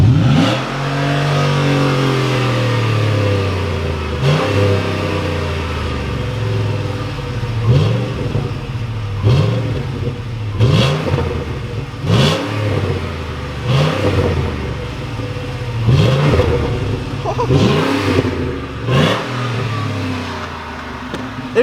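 A Ford Raptor truck fitted with a Corsa exhaust revs up again and again, loud and close, with the deep engine note rising and falling in repeated throttle blips over a continuous rumbling idle.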